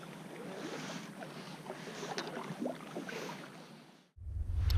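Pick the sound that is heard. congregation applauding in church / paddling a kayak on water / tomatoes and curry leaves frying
paddling a kayak on water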